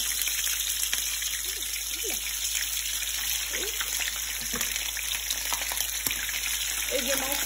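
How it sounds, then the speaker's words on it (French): Tilapia sizzling in hot oil, a loud, steady crackling fry with occasional pops and faint clinks of tongs. "le tenir avec la pince pour le poser délicatement dans l'huile."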